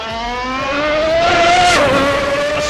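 A high-pitched 1992 McLaren MP4-7 F1 engine in Assetto Corsa screams steadily down a straight, its pitch climbing and then dipping slightly as it passes, loud and continuous.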